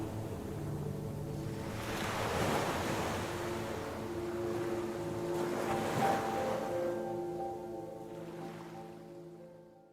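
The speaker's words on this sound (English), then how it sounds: "followed by the gentle waves of the ocean" Gentle ocean waves wash onto a beach in slow, soft swells that rise and fade about every three to four seconds, heard alone and fairly quiet under a sustained low musical tone.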